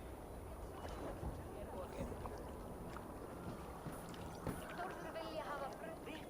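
Wooden Viking longship setting sail in Assassin's Creed Valhalla, with steady water wash, creaking and wind rushing at a constant level, overlaid with faint distant voices.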